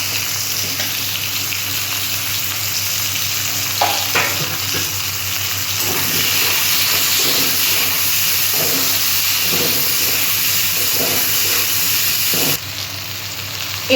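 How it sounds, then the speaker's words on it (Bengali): Onions frying in hot oil with steady loud sizzling and occasional stirring scrapes, cooked after panch phoron and dried chillies for a prawn and bori dish, no voices. "আমি এবার পেঁয়াজগুলো দিয়ে দিচ্ছি"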